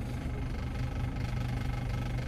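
A car engine labours in first gear as the car creeps slowly up a gentle slope with the clutch and brake released, giving a steady low rumbling vibration close by, with no talking.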